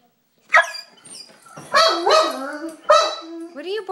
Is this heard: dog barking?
yes